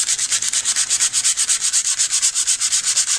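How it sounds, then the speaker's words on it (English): Rough regular sandpaper rubbed over paper for a scrapbook page makes fast, even back-and-forth rasping strokes, close and steady throughout with no talking. "Here's my regular sandpaper. It's really a lot rougher."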